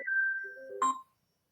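A phone rings or chimes nearby during a hockey podcast recording, a sustained electronic tone followed by a brief brighter ding, then silence.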